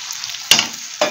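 Water hits hot frying food in a pan, setting off two sharp bursts of loud sizzle over a low background hiss.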